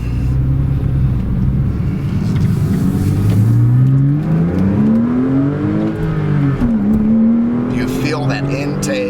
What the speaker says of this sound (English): That intake, oh my God, what an absolute instant response